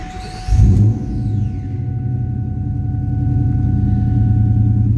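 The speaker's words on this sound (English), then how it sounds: "Whine of the supercharger." A 2001 Ford Mustang Saleen S281 with a supercharger and dual Borla exhaust starts with a burst, then settles into a loud, steady idle rumble. A thin, constant supercharger whine runs above the exhaust.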